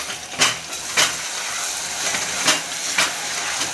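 Ginger chili paste and onion sizzle in hot oil in a home kitchen, a continuous loud hiss with periodic surges as the pan is stirred.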